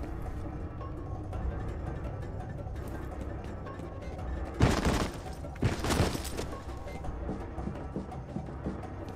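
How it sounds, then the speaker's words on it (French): Gunfire and explosions in a video game: two loud broadband bursts stand out in the middle, over a steady noisy action background with scattered sharp clicks. "Le son des tirs et des explosions est un peu trop"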